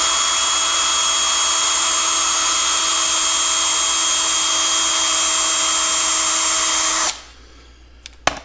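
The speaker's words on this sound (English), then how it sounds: "Round brush and a drill, pretty hard to beat" A power drill spinning a round wire brush to scour rust out of through holes in a Caterpillar D2 diesel engine part, a loud steady whine for about seven seconds before it stops abruptly, followed by a couple of faint clanks.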